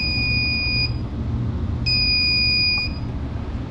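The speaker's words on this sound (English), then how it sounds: "Got a bit of an alarm going on." An alarm on an oxygen generation unit at an RV park lift station gives two loud, steady electronic beeps, each about a second long, separated by a pause, over a constant low machinery hum. No one speaks.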